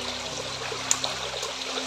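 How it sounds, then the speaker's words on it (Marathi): Raw chicken washed in water at an outdoor cook-out in the fields makes a steady trickling, sloshing wash of sound close by, with a faint hum and a couple of small knocks, and no speech. "चिकन आहे ना आपण सुरुवातीला स्वच्छ धुवून घेतो पाण्यामध्ये"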